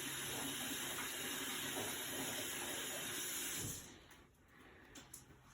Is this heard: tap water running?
yes